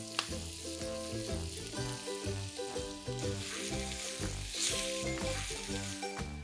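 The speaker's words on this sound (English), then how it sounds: "Let's stir fry all of this on high flame." Potatoes, onions and capsicum stir-fried over a high flame, a steady sizzle running under loud melodic background music for the whole stretch.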